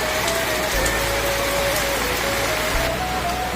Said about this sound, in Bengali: টিপ টিপ টিপ টিপ করে বৃষ্টি পড়ে যাচ্ছে